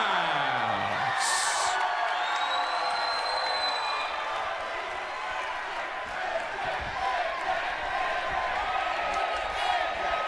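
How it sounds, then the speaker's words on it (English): Wrestling arena crowd at TNA Final Resolution in Orlando, Florida, roaring loud and sustained for the whole stretch, a dense wall of cheering with no break. "Crowd here at Final Resolution in Orlando, Florida, at an absolute fever pitch."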